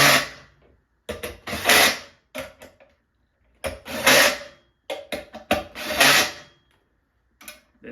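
Bolts being tightened down on a Power Bee Stroker engine head gasket, heard as close, bursty ratcheting and rasping wrench strokes in several separate runs with short pauses between them, no talking.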